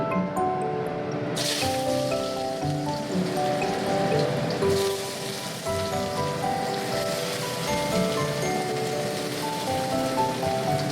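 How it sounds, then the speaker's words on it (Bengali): Potatoes hit hot oil in a karai and sizzle loudly, a dense crackling hiss that surges at the start and keeps spattering steadily throughout, with no talking. "কড়ায় তেল দিয়ে দিলাম। তেলটা আমার গরম হয়ে গেছে। এইবারে প্রথমে দেখুন আমি এই আলুটা দিয়ে দিচ্ছি।"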